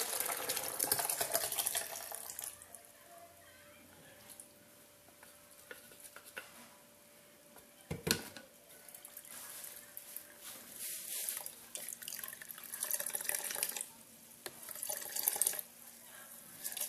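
Water from soaked pandan leaves, made for a Lao rice dessert, is poured and strained into a container. It runs in splashy trickles and drips, loudest at the start, with clinks of utensils and quieter pauses between pours.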